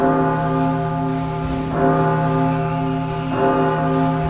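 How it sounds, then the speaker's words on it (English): Sustained, ringing warning bells from a gate watchtower sound loud and steady, with fresh strikes roughly every couple of seconds layered over the lingering hum. "those warning bells from the main watchtower at the gate"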